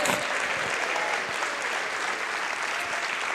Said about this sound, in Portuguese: Você pode aplaudir o Senhor e dizer: eu creio.